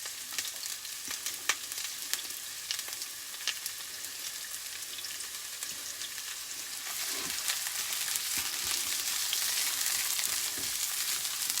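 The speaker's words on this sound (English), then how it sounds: "That's a whole white large onion going in." A whole large white onion frying in hot oil with curry leaves, a steady sizzle that grows fuller partway through, punctuated by a few sharp clicks and taps, with no talking.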